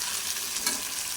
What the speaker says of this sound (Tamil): உருளைக்கிழங்கு வறுத்துக்கிட்டு இருக்கிறேங்க